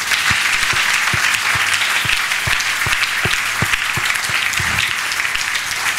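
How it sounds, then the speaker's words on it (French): A church congregation at a Sunday service applauds Jesus, a loud, dense wash of clapping from a crowd with a steady rhythmic beat of claps running through it. "On acclame Jésus."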